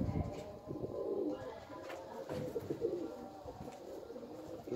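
Cheena pigeons coo in low soft repeated calls, close by, over a quiet background of rustling and faint chirps, with no clear talking.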